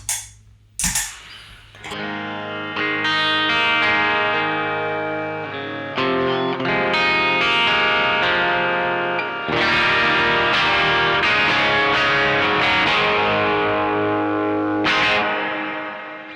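Electric guitar played through Caline reverb and compressor pedals, sustained chords and ringing notes with a wide ambient wash, strong and continuous after a brief pick-noise start, with no voices.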